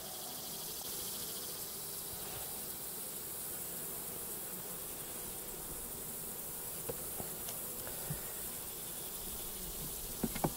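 Honeybees in a struggling hive buzz as a dense, continuous drone, steady and close with a few faint clicks near the end and no talk.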